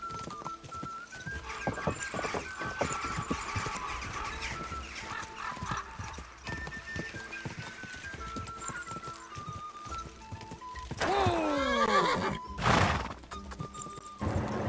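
Horse hooves clip-clop at a gallop in the Kingdom Come Deliverance 2 video game, with loud neighing whinnies near the end over game music.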